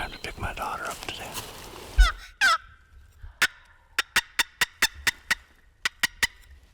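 A wild turkey in Wisconsin woods lets out a short, distant gobble about two seconds in. Whispering comes before it, and a run of sharp, evenly spaced clicks follows.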